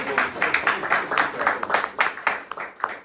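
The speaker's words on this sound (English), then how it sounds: "Round of applause." An audience at an FIU Honors talk gives a short round of applause, with uneven bursts of clapping that rise and fall across a few seconds, moderately close and without talk over it.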